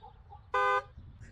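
A single short car horn honk in Indian traffic, loud and close, lasting about a quarter second over low background street rumble.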